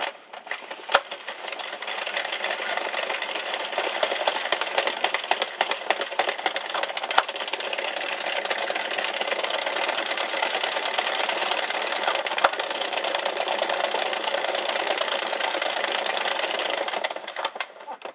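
An Addi 46 circular knitting machine knitting plain rounds of yarn gives a steady, close mechanical whirring and clattering that runs without a break for the whole stretch.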